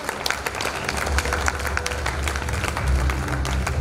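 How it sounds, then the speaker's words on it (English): Audience applause at a felicitation ceremony, a dense steady round of clapping with sharp individual claps throughout, fairly loud and close, with low murmuring or rumble underneath. "A huge round of applause"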